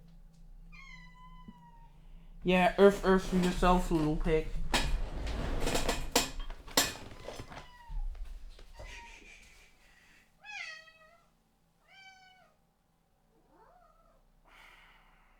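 A house cat meows several times, loud and close at first and then in fainter, spaced calls, over scattered rustles and knocks while a person talks nearby.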